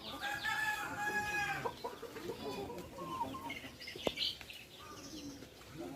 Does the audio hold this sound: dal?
no